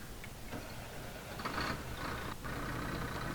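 A Renault Magnum truck engine in a truck video game rumbles steadily at idle, heard from outside the cab, with a faint rise in the engine noise midway.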